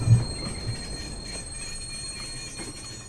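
A train rumbles through in the Watch Dogs multiplayer game, a steady low rolling drone with faint high squealing tones from the wheels, loud and continuous throughout.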